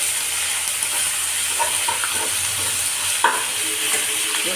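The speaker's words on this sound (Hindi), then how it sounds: "अभी मेरे ऑनियन है ना ब्राउन हो रही है, अभी मसाला भी डाल रही है।" Onions and masala frying in a pan give a steady, dense sizzle with occasional stirring scrapes and clinks, close up, with no voices.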